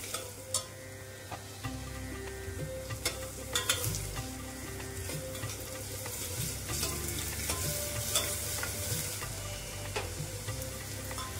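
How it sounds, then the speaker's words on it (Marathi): Chopped onion fries in a pan for pav bhaji, browning toward golden with a steady sizzle and repeated scraping and stirring clicks of a spoon, close and alone without voices. "कांदा आपल्याला छान सोनेरी रंगावरती आपल्याला भाजून घ्यायचा आहे।"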